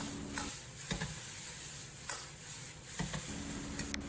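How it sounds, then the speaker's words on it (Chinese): Pan-fried eggplant stir-fried with bean paste in a wok over medium heat, a soft steady sizzle with a few quick scraping stir strokes, faint and close. "简单翻炒扒拉1-2下"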